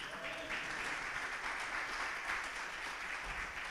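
A church congregation applauds together in a steady, dense wash of clapping that runs unbroken from start to finish at moderate distance, with no voices rising above it.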